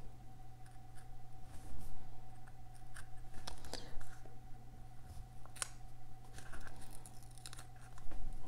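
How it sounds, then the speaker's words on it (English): An X-Acto knife cutting through paper on a Classic Happy Planner page, heard as faint, close scratchy strokes and soft slicing scrapes in an irregular rhythm over a steady low electrical hum. "my X-Acto knife cut"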